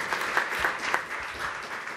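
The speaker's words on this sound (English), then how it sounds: "a round of applause." An audience at a housing summit applauds a panel, sustained dense clapping with a few louder individual claps standing out, even and continuous throughout.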